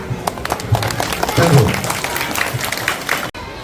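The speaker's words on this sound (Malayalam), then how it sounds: "കയ്യടി." A crowd of children and adults applauds at a school Basheer Day event, with steady clapping under voices talking throughout.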